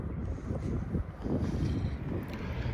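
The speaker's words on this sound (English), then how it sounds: "Wind might be blowing a little too hard for me to record video." Wind blows outdoors in a small Polish town, a low rumbling rush with gusty swells that buffets the microphone continuously.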